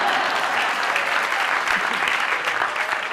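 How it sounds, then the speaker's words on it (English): Dense, steady applause from a conference audience fills the room, a continuous wash of many hands clapping at even loudness for several seconds. "Give that Colleen a big clap"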